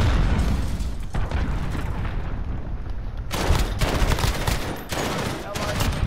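Cruise missile strike in Call of Duty Modern Warfare, heavy booming explosions and dense rumbling blasts rolling continuously, loud and close, with a brief lull before another cluster of impacts.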